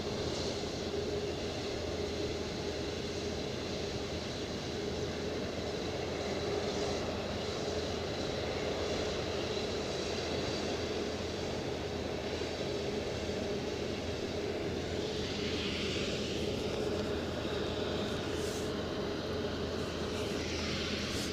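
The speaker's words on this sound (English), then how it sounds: "That'll be the 737-700." A Boeing 737-700 at Edinburgh Airport, a steady broad jet engine roar holding level for twenty seconds at moderate distance, with some faint extra noise toward the end.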